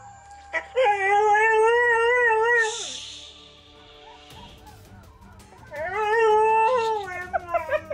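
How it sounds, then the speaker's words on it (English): A husky howls along to a police siren played back from a phone recording, long wavering howls rising and falling in two loud drawn-out bouts with a brief lull between, the siren's wail sounding faintly underneath. "just dogs howling to a police siren, when Xena watches it"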